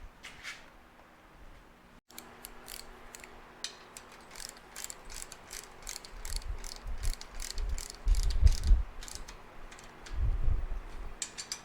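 A wrench ratchets on a Suzuki TS250 motorcycle, with a quick series of close, light clicks followed by heavier low thuds and clunks from the work.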